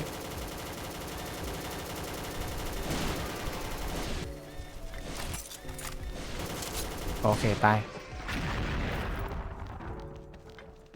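Rapid gunfire and booming blasts from the shooting video game XSHOT, in dense overlapping bursts that run nearly the whole time and fade toward the end, with someone talking over them.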